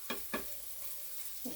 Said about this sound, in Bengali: একটা পিঠ ভাজা হয়ে গেছে পোস্তর বড়াগুলো